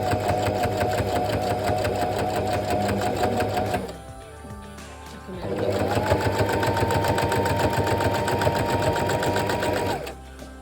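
A sewing machine quilts through layered oven mitt fabric with a slightly elongated stitch, running in a fast steady whir, pausing briefly, then running again for several seconds before stopping. Close and loud, no talk.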